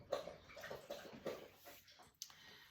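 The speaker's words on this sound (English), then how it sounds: "That's my dog drinking water." A dog laps water in quick, soft wet pulses about twice a second, close by and fairly quiet, followed by a brief pause and a final splashy lap.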